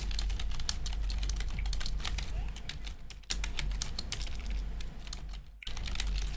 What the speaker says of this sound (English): Sorry for all the typing there.